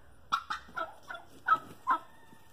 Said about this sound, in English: So there are the two turkeys.